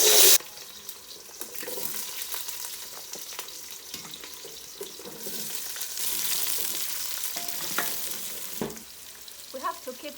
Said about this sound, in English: be frying these other ingredients, adding in our onions